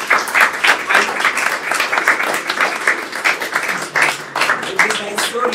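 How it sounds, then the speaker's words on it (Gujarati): An audience at a live Gujarati talk session claps for fathers, a brisk, dense burst of applause that swells and dips in waves for several seconds. "દરેક પપ્પાઓ માટે એક વાર તાળી પાડો."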